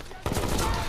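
Burst of gunfire in a moped police chase video game, a sudden dense volley of shots erupting after a brief quiet moment and continuing rapidly, loud and close.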